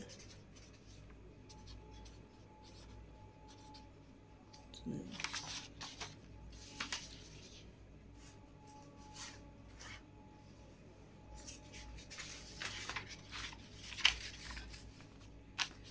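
Pen writing on paper while working a class 5 math exercise: faint, intermittent scratchy strokes in short bursts over a quiet room hum, with some brief rustling.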